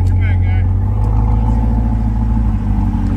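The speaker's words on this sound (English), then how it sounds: "Got a Callaway vet pulling in here, C8 version." A Callaway C8 Corvette pulling in, a loud, deep rumbling engine close by, steady throughout with a brief higher whine at the start.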